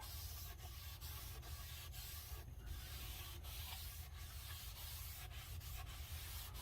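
A balled-up sock rubs wax into a pine-lumber wood kitchen counter, a faint, continuous scrubbing hiss with soft rhythmic strokes and no voices.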